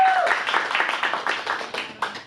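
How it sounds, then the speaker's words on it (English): A small adult improv class gives a short round of applause, with distinct individual claps in a quick, uneven rhythm that stay close and moderately loud. "Let's give her a round of applause."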